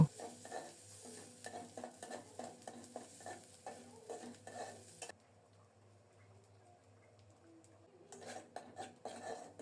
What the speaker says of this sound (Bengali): সরিষার তেল দিলাম অল্প করেই কোরানো নারিকেল দিচ্ছি নেড়ে চেড়ে নারিকেলটাকে লাল লাল করে ভেজে নেব